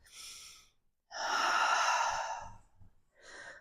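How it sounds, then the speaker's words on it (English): Deep breaths during a yoga session: a soft airy inhale, a pause, then a long full exhale followed by a shorter breath, close and alone without talk. "Big inhale, open up the chest."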